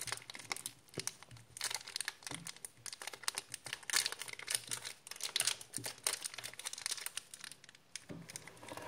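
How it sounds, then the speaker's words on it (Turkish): A pink surprise box package is torn open by hand, with continuous close crinkling, rustling and tearing of paper and plastic wrapping in irregular bursts. "Açıyoruz pembe kutumuzu."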